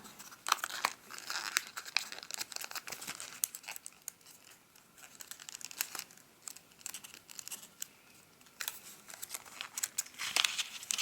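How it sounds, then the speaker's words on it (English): Paper being folded and squashed flat while making a graduation gown origami, with close crinkling and crumpling in irregular bursts and brief pauses, and no talking. "fold it down a bit for you guys to see. I squash it down"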